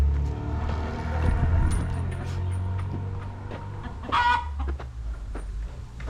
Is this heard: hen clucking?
yes